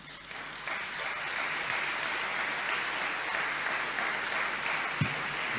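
Sustained audience applause at an honorary doctorate ceremony, a dense, steady wash of clapping from a large crowd lasting throughout, with no speech over it.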